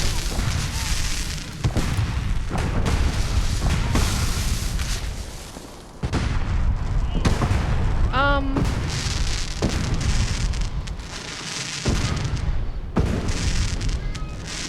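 Booming explosions overhead in the video game Fallout 4, a dense run of loud, rumbling blasts that carries on almost without a break, with a few short gaps and a brief rising chirp partway through.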